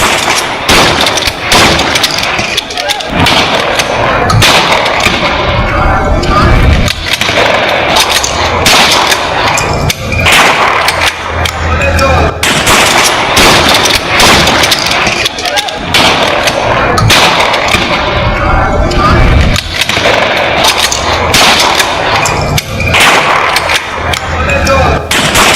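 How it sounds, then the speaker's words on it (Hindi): Loud, chaotic bursts of police gunfire crack repeatedly over a noisy crowd scene in Islamabad, with shouting and clanging mixed in throughout. "पुलिस ने गोलियां चलानी शुरू की।"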